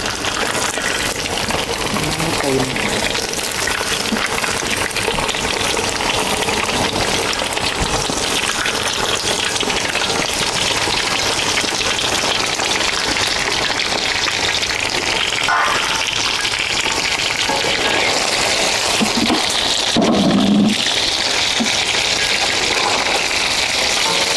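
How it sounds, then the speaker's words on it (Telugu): Fish pieces for a homemade spicy fish pickle frying in hot oil, giving a steady, dense sizzle that runs unbroken throughout with a brief louder burst of bubbling near the end. "ఇదే విధంగా అన్ని ముక్కలను వేయించుకోవాలా"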